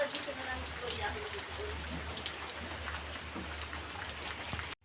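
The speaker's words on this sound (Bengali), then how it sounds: "দেখি আমি দাঁড়িয়ে আছি এখানে করে বৃষ্টি থামার অপেক্ষায়।" Rain falls outside on a rainy day with waterlogged streets, a steady, even wash of drops on surfaces that sounds fairly distant and soft, continuing unbroken until a sudden cutoff at the end.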